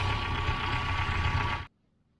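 A Datsun Stanza L20B four-cylinder with modern EFI runs steadily on a dyno, a loud, even engine drone that holds for about a second and a half and then cuts off abruptly to silence.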